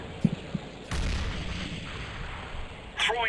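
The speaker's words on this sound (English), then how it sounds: "Grenade out." A grenade is thrown and explodes in CS:GO during a professional esports match: two small clicks, then a loud booming blast that rolls on, ending with a further burst.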